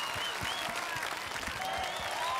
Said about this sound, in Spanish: El aplauso en el estudio.